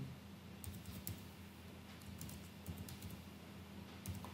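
Someone types on a computer keyboard while setting up a Jenkins job, with soft irregular key clicks in small clusters over a steady low hum, fairly faint.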